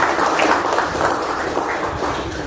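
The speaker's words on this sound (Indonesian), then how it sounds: "Tepuk tangan terlebih dahulu." Applause from an audience at a school anniversary event at SMPN 1 Tepus, Gunung Kidul, a dense, steady wash of clapping filling the whole stretch without pause.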